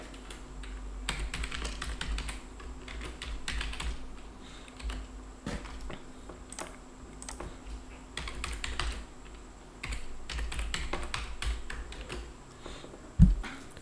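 Fingers type an email address on a computer keyboard with rapid bursts of light key clicks, pauses between runs, close and clear, ending with a sharper single click.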